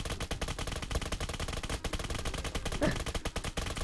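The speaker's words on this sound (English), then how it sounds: "we're shooting so hard" Rapid automatic gunfire from Roblox's Apocalypse Rising 2, a continuous, loud stream of dense shots pounding for the whole stretch with barely a pause.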